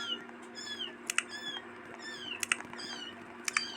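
A cat meows several times in the video game Roblox over steady background hum, with sharp bright bursts between the calls; the cries sound fairly close but not loud.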